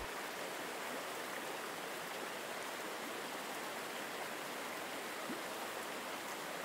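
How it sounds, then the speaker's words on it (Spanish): A garden waterfall pours in a steady, unbroken hiss of falling water, soft and even throughout with no other sounds. "Con cada sonido de la cascada"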